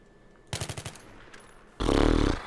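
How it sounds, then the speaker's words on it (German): Automatic gunfire from the video game Battlefield 3 rattles in a short burst of about five rapid shots, then a louder, sustained blast of fire cuts in near the end, loud and close with no talking. "Du schießt."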